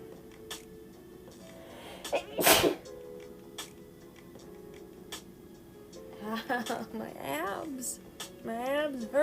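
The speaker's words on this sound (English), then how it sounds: "Oh, I gotta sneeze." A single sharp, loud sneeze bursts out near the mic amid quiet room sound, followed later by someone talking.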